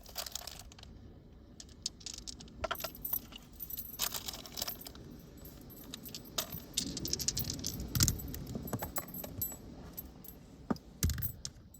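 Astrology dice are shaken and rolled, giving scattered clicks, rattles and clatters that come close and fairly loud, with irregular bursts and short gaps and no speech.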